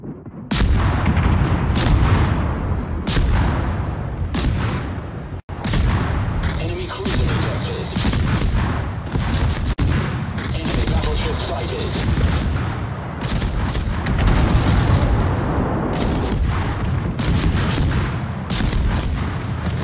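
An artillery fire-support barrage in a video game sends repeated heavy booms and blasts in rapid, overlapping succession, loud and dense for the whole stretch with only brief gaps.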